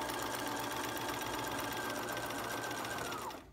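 A sewing machine back stitching a paper-pieced quilt block through a paper template runs as a steady, close, continuous whirring hum for a few seconds, then stops abruptly.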